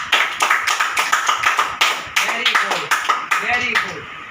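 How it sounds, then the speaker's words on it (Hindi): Schoolchildren in a live Hindi class applauding a classmate, a burst of brisk, loosely synchronized hand claps repeating in a quick pulse, close and lively, with a voice speaking over part of it. "इसके लिए जोरदार क्लैपिंग करिए सब बच्चे"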